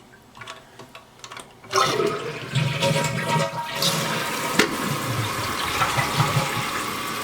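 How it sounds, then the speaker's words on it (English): A toilet with a newly installed flush mechanism, flushed with its small flush button: a few soft clicks, then a sudden loud rush of water that settles into steady swirling and refilling. "Now, we're going to hit the small flush button."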